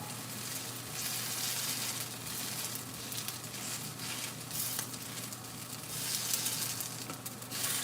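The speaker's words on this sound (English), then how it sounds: "Garlic bread." Garlic bread sizzles steadily in a hot pan, a close, continuous crackling fry with soft popping and no talking.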